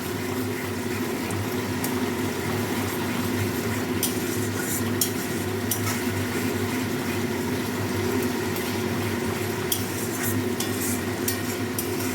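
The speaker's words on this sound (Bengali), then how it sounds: "আর একটু মশলাটা কষিয়ে নেব ভালো করে" Masala stir-fried in a pan gives a continuous close sizzle under a steady background hum, with faint scraping now and then and no talk.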